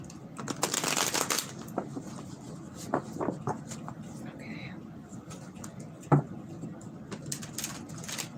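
Soft riffling and shuffling of tarot cards, a few quick bursts near the start and scattered clicks later, with faint murmuring in a quiet room.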